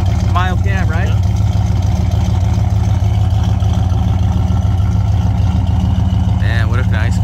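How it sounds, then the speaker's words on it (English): A 1972 Pontiac LeMans Sport convertible engine with a turbo muffler and a mild cam idles close by, giving a steady, deep rumble throughout, with brief voices talking over it near the start and end. "Turbo muffler. Yes. It's got a nice sound to it."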